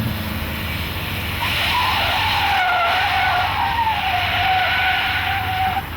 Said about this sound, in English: there's this huge spin out that happens in the movie